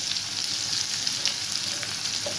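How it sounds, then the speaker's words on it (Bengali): Onions frying in oil in a pan while cooking a spicy prawn curry, a steady close hiss and sizzle throughout with no voices. "পেঁয়াজটাও কিন্তু ভালো করে লাল করবেন"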